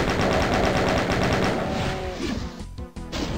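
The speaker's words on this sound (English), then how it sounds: "how dare you fucking shoot me from out there?" Rapid automatic gunfire from the video game Ultimate Doom, a dense burst of shots that fades out after about two seconds, followed by a few scattered clatters.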